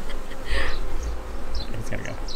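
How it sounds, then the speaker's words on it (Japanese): A bee buzzing close around a beekeeper's face at a honey farm, a near, wavering insect drone that rises and falls, with a voice talking over it. "It's buzzing around my face like,"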